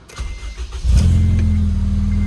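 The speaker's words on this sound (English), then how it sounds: "let's fire it up again and see how it sounds now" An Acura RSX Type-S engine with a new PLM header and exhaust cranks briefly, then catches and settles into a loud, steady low rumble that runs to the end.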